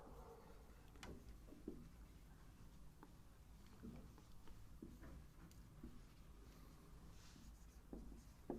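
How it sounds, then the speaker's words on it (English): Pen or pencil writes out a geometry proof on paper, with soft close scratching strokes and light taps that come in short bursts, quiet and without speech. "So let's write it down."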